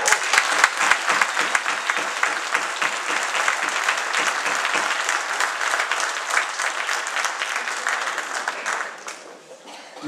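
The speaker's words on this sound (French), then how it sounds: "Et je vous demande de les applaudir." A dense, sustained round of applause from an audience at a 2014 municipal election list presentation in Caumont, clapping loudly for about nine seconds before thinning out and fading at the end.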